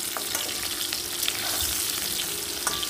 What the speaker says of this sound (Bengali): তো একসঙ্গে আমি ভেজে নিচ্ছি